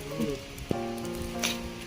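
Steady patter of rain on a surface, a soft continuous hiss with a faint tonal hum and one sharp tap partway through.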